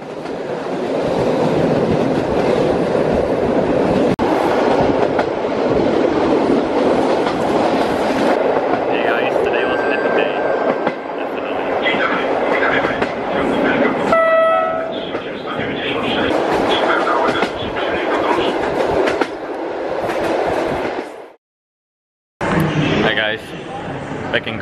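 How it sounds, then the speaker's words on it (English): Passenger train riding the rails toward Krakow, a steady loud rumble with rhythmic rolling noise throughout, a brief squeal of wheels midway and a short silent gap near the end. "I'm gonna get on the train, maybe get some sleep there"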